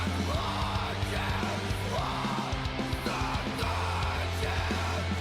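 Harsh post-metal screaming vocals over a loud, dense band playing a recorded track, distorted guitars and drums with a steady pulse, the shouted voice sustained and abrasive within the mix.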